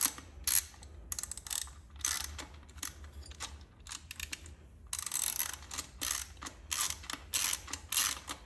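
Ratchet wrench loosening the intake manifold bolts on a 2023 Harley FLHXS, rapid bursts of metallic clicking in repeated strokes with short pauses between, close and crisp, no talking.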